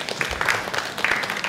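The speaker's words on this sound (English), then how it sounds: "Round of applause." A brief burst of applause from a seminar audience at a talk on success habits: scattered, moderately faint hand claps lasting just over a second, with no speech.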